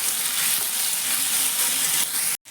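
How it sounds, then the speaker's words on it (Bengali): Steady frying sizzle of sattu and onion in a pan, close and fairly loud, with faint stirring scrapes, ending abruptly. "এবার আমি ছাতুটা ঢেলে দিচ্ছি ছাতুটা দেওয়ার পর একটুখানি ভালোভাবে আবার ভেজে নেব"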